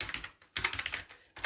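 Fast typing on a computer keyboard while writing C++ code, a quick run of dense clicking keystrokes in two bursts separated by brief pauses, close and clear with no talking.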